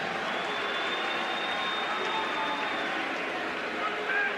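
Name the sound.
crowd applause for boxer Pat Jackson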